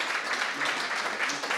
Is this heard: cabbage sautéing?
no